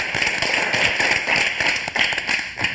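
An audience applauds: a steady wash of many hands clapping, with a bright, crackling texture that stays fairly loud and even throughout.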